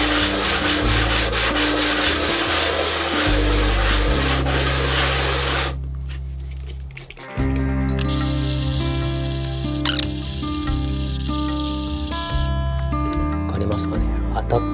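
A cheap western hand plane's sole is lapped on an abrasive surface with repeated rasping strokes that pause briefly partway, while a person talks over the scraping.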